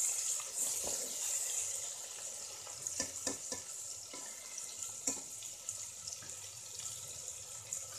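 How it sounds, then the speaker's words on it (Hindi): Ginger garlic paste fries in a pot for mutton paya, a soft continuous sizzle broken by several sharp scrapes and taps of a spoon stirring, with no voices. "अब हम इसमें डालेंगे जिंजर गार्लिक पेस्ट, करीब 1 से 2 मिनट हम इसे भून लेंगे।"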